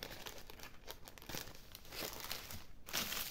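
Paper being cut out for a junk journal crinkles and rustles up close, with soft tearing and crunching textures that continue steadily and grow a little louder near the end.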